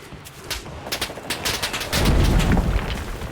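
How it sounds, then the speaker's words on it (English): Enemy gunfire in the WW2 shooter game Enlisted, rapid bursts of cracking shots that thicken into a dense, louder volley toward the end, with no talk. "So they're shooting at us all crazy"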